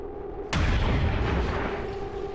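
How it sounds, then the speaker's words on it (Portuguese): A single sharp, booming sniper rifle shot in XCOM 2 cracks out after a short pause, then a long rumbling echo trails away over steady background noise. "os snipers vão dar aqueles tiros"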